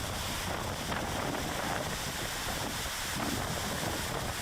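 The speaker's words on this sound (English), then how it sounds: "Hear that wind." Wind buffeting the microphone by the sea in the Osu area of Accra, a steady, hissing rush with gusty swells and low rumbles, and no voices.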